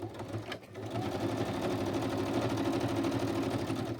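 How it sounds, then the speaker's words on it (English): Sewing machine stitching magazine pages into a mini Easter journal, a steady fast mechanical chatter running almost the whole time after a brief pause near the start, close and moderately quiet. "And then I need to stitch the top of that one."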